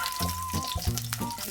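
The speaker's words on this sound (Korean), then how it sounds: "마늘을 이렇게 구워주세요." Sliced garlic gently frying in oil in a pan over low heat after anchovies were stir-fried, a steady close sizzle with occasional stirring scrapes and no speech.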